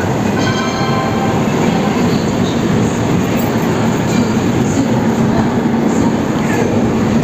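Steady, loud rumble of a superfast express train running at speed, heard from inside an AC 3 tier coach, with constant wheel roar, faint rail clatter and occasional squeal.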